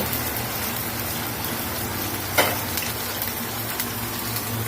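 Chopped tomato sizzling in a pan with ginger-garlic paste, a dense, even, close frying hiss that holds throughout, broken by one sharp clink of a utensil, with no voices.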